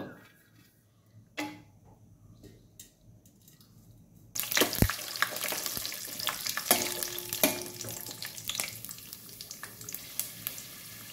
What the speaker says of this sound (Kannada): ಎಣ್ಣೆ ಬಿಸಿ ಆದಮೇಲೆ ಒಂದು ಸ್ವಲ್ಪ ಗೋಡಂಬಿ